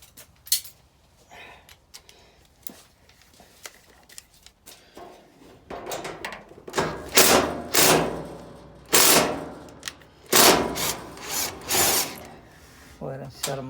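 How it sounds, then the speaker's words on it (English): A 5/16 socket works screws loose from a Whirlpool dryer during a motor replacement, giving scattered ratcheting clicks and short mechanical bursts that grow louder and denser toward the end, close by with no talk. "grab a 5/16 socket. You're going to remove this screw,"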